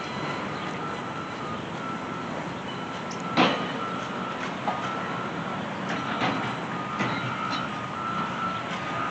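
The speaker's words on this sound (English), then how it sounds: "nice Caterpillar trucks they got here." Caterpillar construction trucks at a building site, with a steady reversing beep sounding over a constant rumble of engines and machinery, plus an occasional clank.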